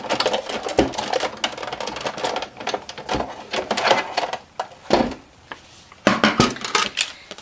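A Sizzix Big Shot die-cutting machine is hand-cranked, feeding cardstock through in a steady run of close, clattering mechanical clicks and ratcheting bursts, with brief pauses between turns.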